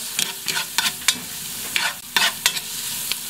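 Garlic and onion sautéing in a pan, with steady frying sizzle broken by repeated scraping stir strokes, close and moderately loud, no talking.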